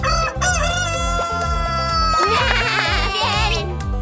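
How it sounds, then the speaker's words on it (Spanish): Loud, close rooster crow rising and stretching out over a steady rhythmic backing of music, heard as one continuous call in a children's learning setting. "¡Es un gallo!"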